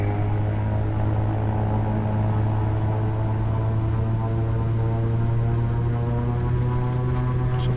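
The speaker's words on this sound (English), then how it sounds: "Off we go, full power." A King Air C90 GTx turboprop in the Aerofly FS2 flight simulator runs at full takeoff power at Marble Canyon, giving a steady loud propeller drone with a constant pulsing hum and no talking.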